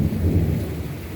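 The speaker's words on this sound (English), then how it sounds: "It always lightnings first, and then the thunder comes." Deep rumbling thunder rolls through a thunderstorm at Boynton Beach, Florida, a loud, sustained low roar with rain hissing underneath, heard alone without voices.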